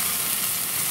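A hamburger sizzles on a hot grill after a flip, a steady, loud, even crackle of frying that fills the whole short moment with no voices.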